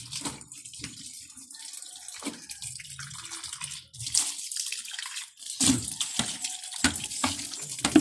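Running water pours and splashes in uneven bursts as something is rinsed under a tap, with sloshing and dripping between flows, close and moderately loud.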